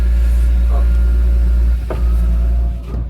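A cold BMW E46 M3 engine idling just after starting, a loud, smooth, steady low rumble heard close up with no talking.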